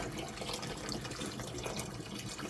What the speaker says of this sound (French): Nous allons rajouter de l'eau bouillante, on l'a fait bouillir.